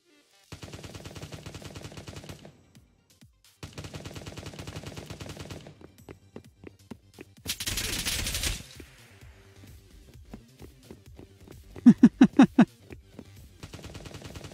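Big guns fire in the shooter Project Delta: rapid bursts of heavy automatic fire in several long strings, separated by pauses, with a loud noisy blast midway and a tight cluster of sharp, punchy shots near the end.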